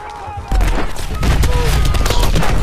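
Burst of World War II battlefield gunfire in Call of Duty WWII, with heavy booming rounds and rapid shots that jump loud partway through and keep going over a dense din, while a voice speaks over it.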